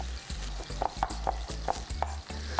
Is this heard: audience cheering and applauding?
no